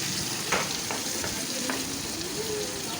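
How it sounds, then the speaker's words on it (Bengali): Steady hiss of chopped onions frying in hot oil with a few sharp clinks and scrapes on top, constant and close, no voices. "পেঁয়াজ কুচিয়ে রেখেছিলাম, ওটা দিয়ে দিচ্ছি তেলের মধ্যে।"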